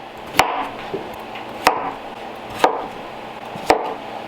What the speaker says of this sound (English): I'm gonna cut these just into chunks so we can boil them.